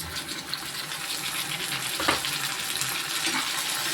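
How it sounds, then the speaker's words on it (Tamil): Eggplant sautés in a pan with onion and garlic for brinjal chutney, producing a loud, continuous broadband sizzle with a brief louder burst of spatter near the middle. "கத்திரிக்காயை வந்து நல்லாவே வதக்கிடணும்."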